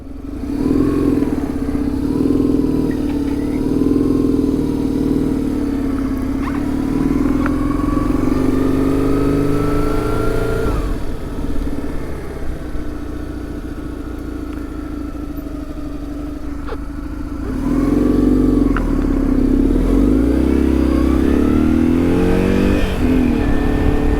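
A BMW R1100R motorcycle out on a ride, its engine droning loud and steady throughout with a rise in revs midway, a brief easing off, then the engine note swelling back up near the end.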